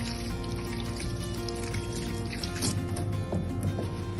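Warm tap water running steadily while hands are rinsed, a continuous close splashing and trickling stream with no talking.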